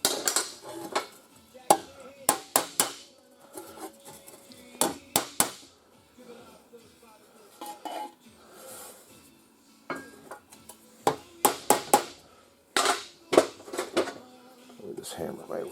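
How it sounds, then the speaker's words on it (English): Sheet metal on a Triumph TR3 is shaped with a hammer, giving sharp metallic blows in uneven bursts and quick clusters, loud and close, with pauses between runs and someone talking at times. "This hammer might work a little better."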